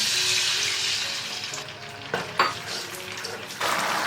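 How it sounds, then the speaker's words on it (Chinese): Sweet and sour sauce comes to a boil in a wok with a little oil for pineapple gulu pork, a steady close sizzle and bubbling with a few brief stirring scrapes. "再重新起锅，加少许油，把我们的料汁放进来煮开。"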